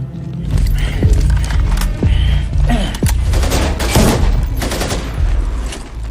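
Loud gunfire rages through a crime-film shootout with police: dense, rapid volleys of shots with sharp cracks and occasional heavy booms, sustained without a break.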